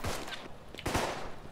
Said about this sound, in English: Why do I hear gunshots?